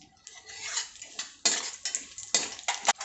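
Dry fruits go into hot ghee in a pan over medium heat, with poppy seeds already added: close, bright metallic clatter and spoon scrapes come in bursts, rising and falling with no talking.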